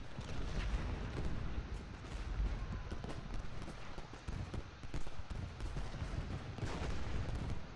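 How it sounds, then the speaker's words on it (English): Artillery fire in the Civil War strategy game Ultimate General Gettysburg: continuous distant booming and rumbling cannon fire, with overlapping thuds filling the whole clip at moderate volume. "I'm going to just murder him with all of this artillery"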